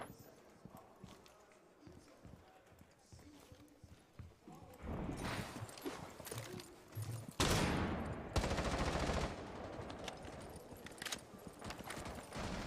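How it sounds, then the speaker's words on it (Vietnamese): Gunfire exchanged in a professional Rainbow Six Siege match, bursts of shots rising out of background game noise into loud rapid clatter, with a commentator talking over it. "bây giờ thì là những tiếng bắn trả rồi"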